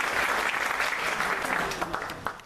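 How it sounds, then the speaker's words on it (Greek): An audience claps at a Greek poetry reading, a dense burst of applause that holds steady and then thins and fades over a couple of seconds. "Ένα χειροκρότημα για την κατάθεση της ψυχής."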